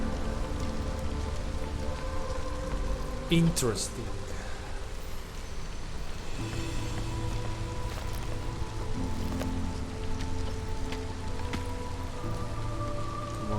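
Steady drizzle rain in the video game Against the Storm patters continuously across the whole stretch, with a low ambient drone beneath and a brief spoken remark over it.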